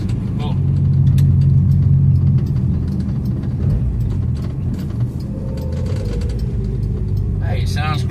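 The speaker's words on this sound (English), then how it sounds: "It's just ticking away there, idling lovely." A car engine, in an FB, idling with a low, steady rumble throughout, close by, with faint higher mechanical ticking and a brief distant sound near the end.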